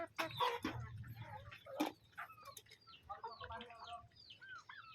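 Native Visayan chickens clucking and calling inside a coop, a busy overlapping mix of close clucks and higher chirps with no talk.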